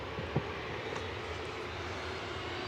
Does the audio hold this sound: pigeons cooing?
no